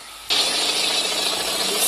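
Truck engine in a driving video game, coming on abruptly after a short quiet moment and then holding a loud, steady, broad roar with a rattly texture for the rest of the stretch.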